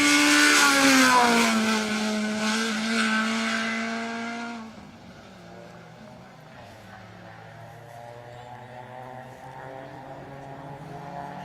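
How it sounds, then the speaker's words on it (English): A Peugeot 106 rally car screams past loudly on a special stage of Rally Wervik 2022, its high engine note falling as it passes, then fading to a lower, more distant drone as it moves away. "Very loud and sounds much more powerful than the UK spec Peugeot 106 is."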